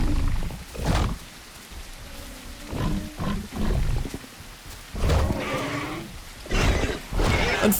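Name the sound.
rain in The Isle Evrima video game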